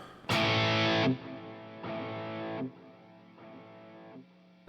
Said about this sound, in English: You have your space echo.